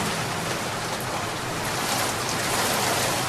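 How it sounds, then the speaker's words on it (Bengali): Dense, steady hiss of heavy rain pouring down without a break, loud and close, with no voices. "এবার বৃষ্টির তোড়টাও বেড়েছে বলে মনে হলো।"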